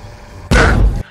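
The Big Fucking Gun firing in the Brutal Doom mod of the Doom video game, one loud, heavy booming blast that holds for about half a second before cutting off abruptly.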